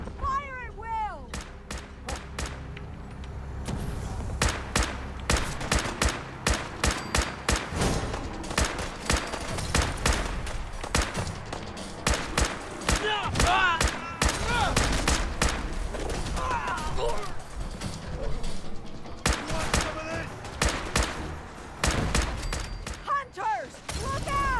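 Sustained battle gunfire in Fallout 4's Far Harbor, with dense rapid shots from several weapons cracking continuously throughout, mixed with shouting voices and creature cries.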